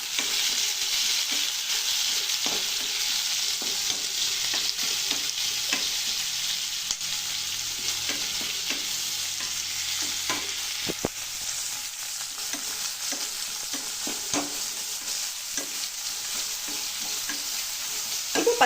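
Semiya upma with curry leaves being stirred in a pan, a steady scraping and sizzling that runs without a break and holds an even level throughout, with no voices.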